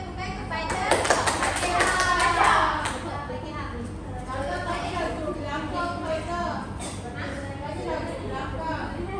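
Children in a primary school religious studies class clap together in a short burst of taps, loud at first and then fading, with children's chatter continuing underneath.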